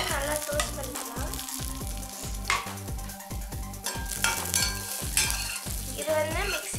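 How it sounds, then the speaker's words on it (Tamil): Green chilli and grated coconut sizzle and toast in a pan while being stirred, giving a continuous close frying hiss over rhythmic scraping strokes of a spoon against the pan and occasional metallic clinks. "அப்புறமா தேங்காய் போட்டு நல்லா டோஸ்ட் பண்ணிக்கலாம்."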